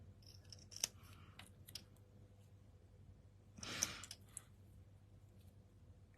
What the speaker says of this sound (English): So snip.